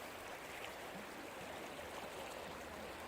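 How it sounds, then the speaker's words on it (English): A river flows steadily in a broad, even wash of rushing water, continuous and moderately distant, with no voices or other sounds. "And here's this river flowing all the way around."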